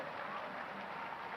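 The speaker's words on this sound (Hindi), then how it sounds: "दोनों हाथ ऊपर उठाकर ताली बजा के नरेंद्र मोदी जी का अभिनंदन कीजिए" Farmers at a rally in Nasrullaganj, Madhya Pradesh, clap with both hands raised, a brief, even wash of crowd applause heard from a slight distance.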